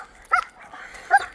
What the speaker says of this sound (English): So this is my dog, Cali.